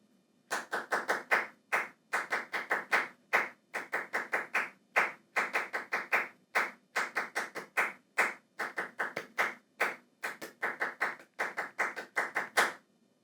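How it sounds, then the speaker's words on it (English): Hands clap along to an alto saxophone practice exercise: crisp, close, evenly spaced claps in a steady beat, grouped into short phrases with brief gaps, and no voices. "So you go ahead and play the saxophone. I'll clap along."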